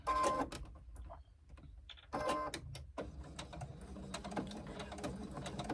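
Sewing machine basting the short ends of a fabric sling together, with close bursts of rapid stitching separated by brief pauses and small clicks, then steadier running toward the end.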